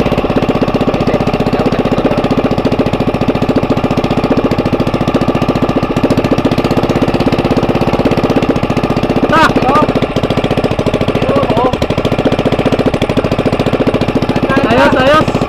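A repaired generator with a newly replaced carburetor running steadily, a loud continuous mid-pitched engine chug with a fine rhythmic knock, with people talking over it.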